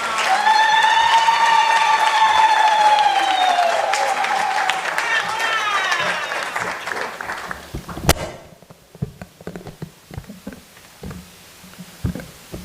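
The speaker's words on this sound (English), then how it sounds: "May we please give her a warm round of applause." An audience at a lekgotla on African traditional leadership applauds as the Queen is welcomed to give her address, with high wavering voices riding over the clapping at first, then thinning to scattered, close claps.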